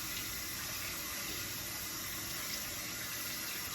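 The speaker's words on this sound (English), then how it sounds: "Okay, we're finna throw some water in here." Water poured from a tap into a pot for homemade chicken and dumplings: a steady rushing splash, continuous and even throughout, with no voices.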